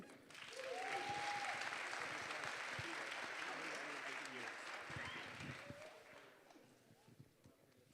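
Audience applause at a high school awards ceremony fills the room, loud and sustained for several seconds before tapering off, with faint voices mixed in underneath.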